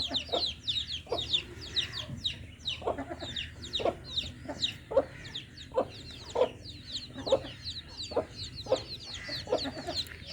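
A hen clucks repeatedly in a steady rhythm at moderate distance, mixed with thin high-pitched peeping of newly hatched chicks and ducklings, over a quiet outdoor village background.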